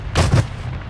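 A sniper rifle shot booms in a first-person shooter video game, a sharp loud blast with a heavy double-thump report that quickly decays into a faint rumbling tail.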